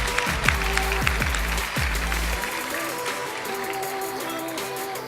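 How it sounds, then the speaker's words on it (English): A convention audience applauds for student Ashlyn Glander of Eastside Junior Senior High School, a broad, steady wash of clapping from a large room with low tonal sounds underneath early on. "give another round of applause for Ashlyn Glander of Eastside Junior Senior High School."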